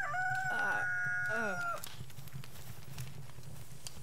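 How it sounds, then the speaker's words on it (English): A rooster crows once in the video game Palworld, a loud rising-then-falling call lasting under two seconds, followed by steady low in-game ambience with faint scattered ticks. "I don't know where the roosters are crowing at because I don't got no rooster."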